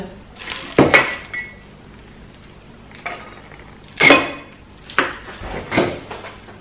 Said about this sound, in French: Remplissez à moitié de glaçons un verre ou une tasse.